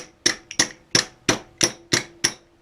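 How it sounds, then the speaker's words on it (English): A seal fitting tool hammers a fork seal into place with seven sharp metallic strikes at a steady, regular pace, loud and close, with no voices. "And then this comes down and hammers on here"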